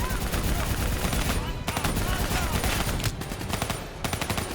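Loud, dense automatic gunfire in Call of Duty: Black Ops 3 as soldiers shoot at a VTOL and an APC, nearly continuous bursts with brief pauses.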